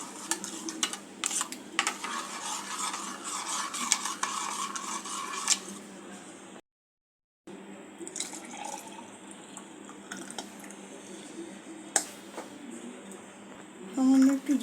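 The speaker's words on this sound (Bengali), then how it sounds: "ভালো করে এটা মিক্স করে নেব।" Spoon stirring a Bengali summer sherbet mixture in a glass or bowl, with light clinks and liquid swirling that stop briefly partway, while someone talks.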